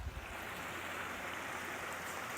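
Creek water at Spur Cross rushes steadily in a broad, continuous hiss, close by and constant, with no voices.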